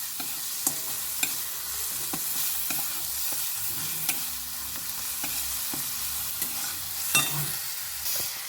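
Salt, chilli, turmeric, cumin and coriander powders with a little sugar and tomato paste stir-fried in a pan for lentil fritter curry, with low steady sizzling and regular scraping strokes of a spatula, close and alone.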